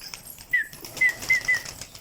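Bursts of wing flapping from pigeons taking off, several quick flutters with faint chirps over a quiet outdoor background.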